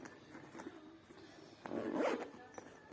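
A suitcase compartment being unzipped gives a soft, close zipper rasp, with a few small ticks before one longer, louder pull near the end.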